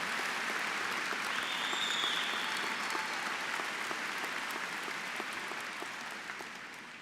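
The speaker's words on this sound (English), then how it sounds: "I'll let you get your applause." Sustained applause from a large crowd in a stadium at a university commencement, steady and dense throughout, slowly fading toward the end.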